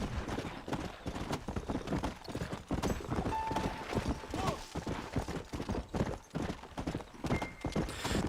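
Horse hooves gallop in Red Dead Redemption, a steady fast clip-clop rhythm running throughout with an occasional neigh, close and prominent over a busy game background.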